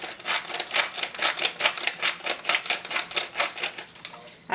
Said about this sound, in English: Now I like fresh ground pepper